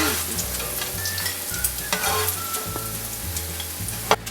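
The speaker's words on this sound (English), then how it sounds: "So the nuggets are fried well." Chicken nuggets frying in a pan, a steady close sizzle of hot oil with a low repeating hum underneath and a sharp clink near the end.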